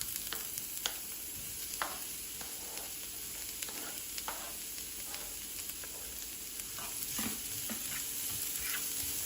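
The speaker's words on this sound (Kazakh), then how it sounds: "Қызып тұрған тапаға кішкене май құямыз, алдымен пиязды салып қуырып аламыз." Onions fry in a little oil in a hot pan, giving a steady close sizzle with scattered crackles and occasional stirring scrapes, alone and without voices.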